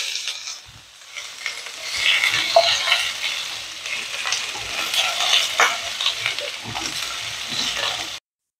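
Potatoes fry in oil tempered with five-spice and dried chili for a village-style Bengali vegetarian dish, producing a steady, fairly loud sizzle with stirring scrapes throughout until it cuts off abruptly.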